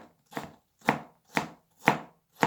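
A knife slices vegetables into pieces about 0.5 cm thick on a cutting board, five crisp evenly spaced chops about half a second apart, close and clear with silence between strokes.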